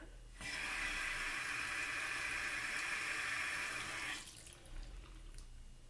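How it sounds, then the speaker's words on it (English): A bathroom tap gushing steadily for about four seconds during a face wash, a loud continuous rush of water that cuts off abruptly, with a little splashing and handling afterward. "So it's time to wash my face after this."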